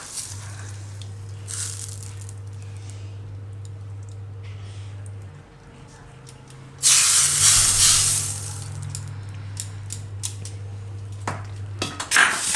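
A spoon scrapes and clinks against a pan while soya nihari is stirred off the heat with Kashmiri chili, in a home kitchen; intermittent metallic scraping that turns louder and more continuous midway, over a low steady hum, with no voices.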